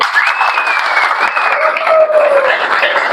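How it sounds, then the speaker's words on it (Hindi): An audience at a health awareness presentation in an office claps together in a loud, sustained burst that holds steadily, with a few faint voices or cheers mixed in. "दिल से तालियां कैसे बजाते, एक बार बजा के दिखाए"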